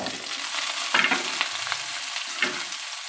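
Potato pieces fry and are stirred in a pan for a Tamil potato fry, a steady sizzle broken by a few scraping stir strokes close by, with no voices.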